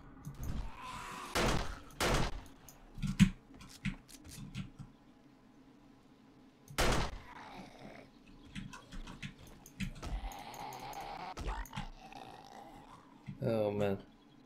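Gunfire in the video game 7 Days to Die comes as several sharp, loud bursts spaced across the stretch, mixed with other game noises and a player's excited talking.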